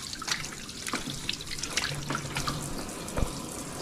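Hands are washed under running tap water in a home kitchen while ribs are being prepared, a steady close rush and splash of water with small drips and scattered clinks throughout.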